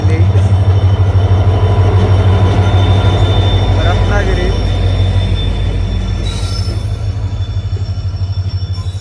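A train rumbles loudly into a station on the Sawantwadi–Ratnagiri route with a heavy low drone and brief wheel squeal, while a voice announces over the noise.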